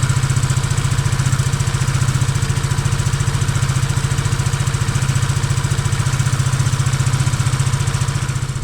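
A new maxi scooter engine running during break-in, a steady, close mechanical drone with a rapid, even pulsing beat that holds at a constant pace throughout.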